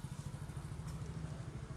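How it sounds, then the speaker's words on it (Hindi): A motorcycle engine running as riders set off, a rapid even putter of low pulses close by and steady at moderate volume, with no speech. "बाइक चलते हैं जी"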